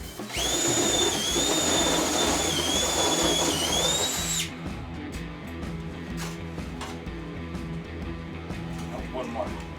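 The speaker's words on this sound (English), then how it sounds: "let's drill our hole out first." A loud, high-pitched power drill whines steadily for about four seconds, drilling a hole while installing a Curt trailer hitch on a Ford Focus, then stops, leaving faint clatter and background noise.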